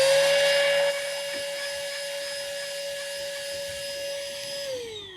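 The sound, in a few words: Ryobi electric rechargeable portable vacuum cleaning air conditioner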